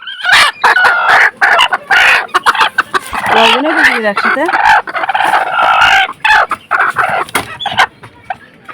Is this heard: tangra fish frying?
no